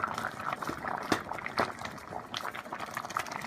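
Jordzen soup bubbling at a rolling boil in a pot, a steady close burble of popping bubbles and sloshing liquid with no voices.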